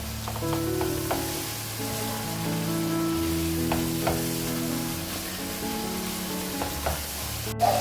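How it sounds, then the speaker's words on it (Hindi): Minced meat (keema) with masala fries in a pan with a steady, close sizzle and occasional stirring scrapes, while a melodic tone plays underneath throughout. "आपने इसको भूनना है ताकि मसाला और कीमा एक जैसा हो जाए"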